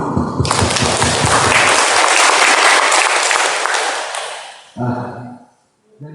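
Applause at a tripartite labour negotiation meeting between union, management and government, a dense burst of clapping from a roomful of people that swells, holds for several seconds, then fades, with brief voices near the end.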